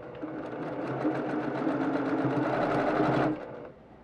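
A sewing machine chain pieces log cabin quilt blocks, running at a steady, fast stitching rhythm for about three seconds before abruptly stopping, close and clear with no talk.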